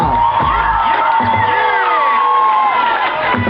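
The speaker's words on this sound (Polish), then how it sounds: "Zróbcie wielkie, potężne brawa" A large crowd at an outdoor town festival in Ślesin, Poland cheers and shouts loudly and continuously, with whoops rising above the dense roar.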